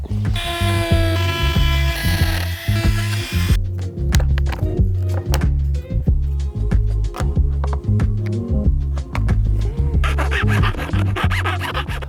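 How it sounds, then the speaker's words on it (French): A Dremel rotary tool cutting plastic between drilled holes for a P17 socket in a VW T5/T6 van: a close, buzzing whine with repeated scraping bursts and stops as the bit bites and lifts, no voices. "Après avoir fait la découpe à la Dremel"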